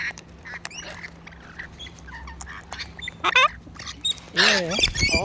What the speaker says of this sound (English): You're clucking.